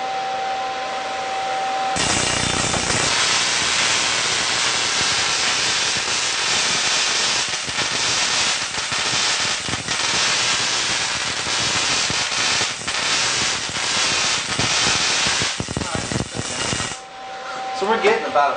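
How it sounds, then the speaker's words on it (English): A Tesla coil drawing roughly a foot of spark from 540 watts fires continuously, giving a loud, harsh crackling buzz for about fifteen seconds, then cuts off. Voices are faintly present around it. "we're getting about a foot of spark off of this system with only 540 watts put in"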